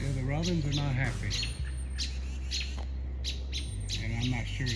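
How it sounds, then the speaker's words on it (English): Robins squawk and chirp sharply in repeated harsh bursts while mobbing a hawk outdoors, loud and close, with someone speaking quietly between the calls. "The robins are not happy,"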